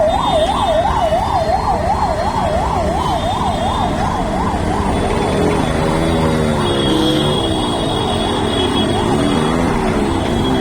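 An ambulance siren wails in rapid rising-falling cycles amid steady Bengaluru road traffic noise, then a second, lower siren tone sweeps in partway through.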